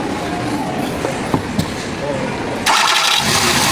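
A 2012 Hyundai Accent cranks and starts, then settles into a rough, uneven idle; someone talks over the engine, and the running noise grows louder near the end.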